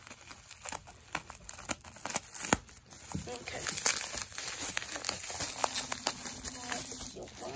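Plastic packaging of Schleich toy horses crinkles and crackles in irregular bursts up close, with a brief spoken word mixed in.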